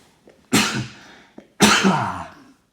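Two sharp sneezes burst out close to the microphone about a second apart, each with a quick breathy intake before it and a fading spray after.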